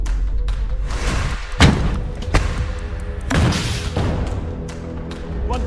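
Rocket launchers fire on a tank from a distant building during fighting in Gaza, with several heavy booming thuds and blasts landing irregularly over a continuous rumbling battle din.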